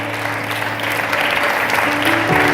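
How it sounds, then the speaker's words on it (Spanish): An audience at a church prayer service breaks into applause, a dense, loud and sustained burst of many hands clapping, with a faint tonal backing underneath. "De ese aplauso de victoria"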